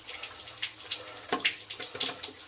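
Water gushes and splashes from a leaking pipe valve with a packing nut leak, a close, fluctuating spray with no one talking.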